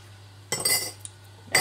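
Metal spoon clinking and scraping in a bowl while mixing soft room-temperature butter for a Guyanese fruit cake, a burst of clatter in the middle and another at the end, close and fairly loud, no talking.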